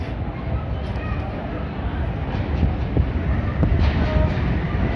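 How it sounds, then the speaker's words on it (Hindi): A train pulls into Gujrat railway station, the service from Peshawar bound for Quetta with locomotive 8306 leading. A steady, loud rolling rumble fills the platform with faint clanks, and voices can be heard under it. "जी 40 डाउन आ गई है गुजरात रेलवे स्टेशन पे।"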